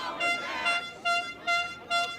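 Car horns honking on a New York City street, several short blasts in uneven succession, fairly close and loud.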